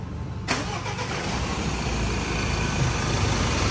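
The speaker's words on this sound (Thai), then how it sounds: "มันติดไปแล้วนะครับสำหรับเครื่องยนต์นะครับ" A car engine cranks and catches at the start, then settles into a steady, loud idle that runs on without pause.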